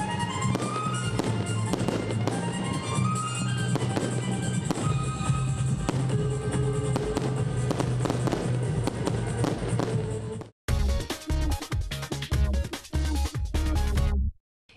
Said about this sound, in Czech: následoval ohňostroj na hudbu.